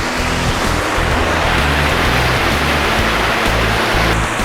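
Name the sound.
water flowing at wastewater treatment plant outfall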